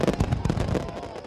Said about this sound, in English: They love Sir Topham Hatt's fireworks